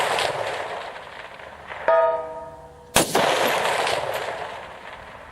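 A 6.5 Grendel rifle fires on an outdoor distance range in Indiana, with two loud, sharp reports about a second apart ringing out over a steady background roar, and no voices.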